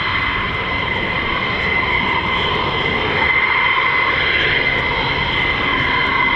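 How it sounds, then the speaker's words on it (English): F-35 fighter jets fly over RAF Lakenheath, a steady, loud distant roar with a whining engine tone holding throughout. "Got some F-35s in high key."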